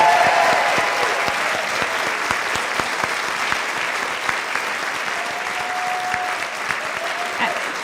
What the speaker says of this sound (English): Let's give all of them a wonderful round of applause, too.